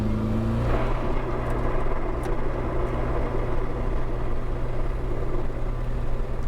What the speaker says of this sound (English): You literally lock it down into third gear, wait for the boost to spool.